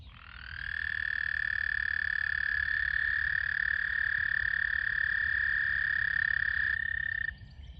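Frogs of the season's first chorus sing in a steady, sustained trill that holds loud and unbroken for several seconds before cutting off near the end, with no voices over it.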